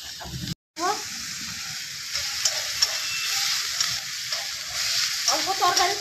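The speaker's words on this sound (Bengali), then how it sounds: "গ্রেট করা পেঁয়াজ, পেঁয়াজটা খুব সুন্দর করে ভাজবো যাতে পেঁয়াজের গন্ধটা না পড়ে" Grated onion sizzles steadily in a pan, a close, continuous hiss with faint scraping stirs throughout and a brief drop-out near the start.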